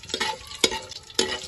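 Whole spices (cinnamon, cumin, bay leaf, black cardamom, cloves and black peppercorns) frying in a pan, a soft steady sizzle with three distinct stirring scrapes, close with no speech.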